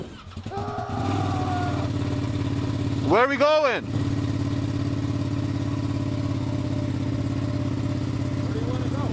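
A KTM 1190 Adventure motorcycle engine runs steadily at idle, a low continuous rumble, with a brief swooping whine partway through and a person talking over it.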